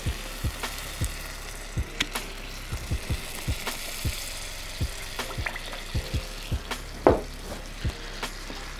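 Homemade barbecue sauce is being mixed in a pan over medium heat, giving a soft bubbling sizzle with regular taps and scrapes of a utensil at a steady pace, close by, with no voices.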